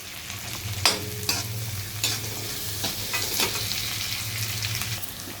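Small onions and garlic cloves sautéing in a pan, a steady close sizzle with a few sharp scrapes and knocks of a stirring spoon against the pan.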